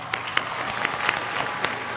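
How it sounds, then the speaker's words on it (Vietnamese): Audience applause for a singing duo on a televised singing show, brisk continuous clapping with a few sharper claps standing out in a short burst. "tiết mục này phải dành một tràng pháo tay thật lớn cho cả hai bạn."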